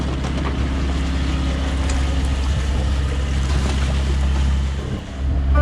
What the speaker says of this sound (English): Flopping sails drive you nuts.